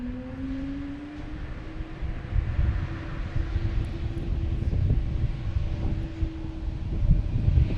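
A Lufthansa airliner descending to land at Logan Airport, its engine a steady low roar with a faint rising whine, heard from a distance over constant wind-like rumble.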